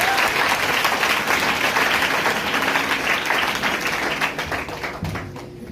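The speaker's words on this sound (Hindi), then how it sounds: "एक जोरदार तालियां" Steady, loud applause from a roomful of trainees at a career training class, dense clapping holding throughout before thinning slightly at the end.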